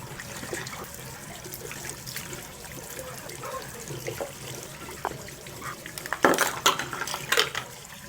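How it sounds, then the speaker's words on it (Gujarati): Tap water runs and trickles over a Vivo T3 Ultra phone frozen in a block of ice. A steady, faint splashing stream is heard, with louder splashes and clinks near the end. "પાણી ચાલુ કરી દઈએ એટલે બરફમાંથી આપણો ફોન નીકળી જાય."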